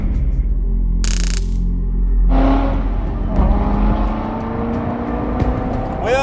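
A supercharged 2016 Corvette Z06 drives hard, its engine note surging up through the revs with a rising whine, then settling into a loud steady cruise with road noise.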